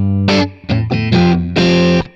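Overdriven electric guitar plays a rhythm lick, moving between two chord shapes with quick trills, five bright, distorted strummed phrases in a short, close run with no talking.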